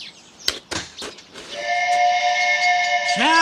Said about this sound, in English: That, my lad, was a steamboat whistle.